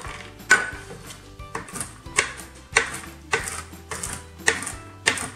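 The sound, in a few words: chopping walnuts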